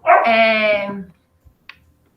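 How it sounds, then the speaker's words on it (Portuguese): Several dogs barking loudly and close by in a home, a burst of overlapping barks and yips lasting about a second, followed by a couple of faint knocks and near silence. "perdoa os meus cachorros latindo, eu até coloquei eles lá fora, mas eles latem mesmo"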